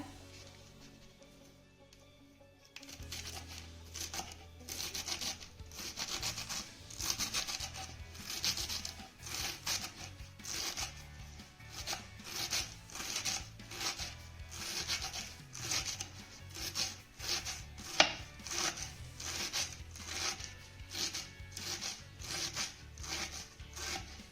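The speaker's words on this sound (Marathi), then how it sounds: "बारीक अशा चिरून घ्यायच्या" Colocasia leaves being finely chopped with a knife, a long, rapid, even run of close cutting strokes at moderate level, starting after a brief quiet moment, with no speech.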